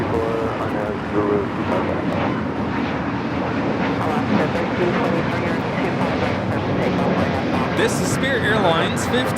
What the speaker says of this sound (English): Airlines 1542 taking off to New Orleans on the A320neo.